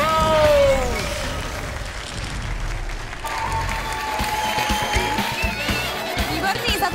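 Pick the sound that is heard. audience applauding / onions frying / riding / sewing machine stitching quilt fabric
audience applauding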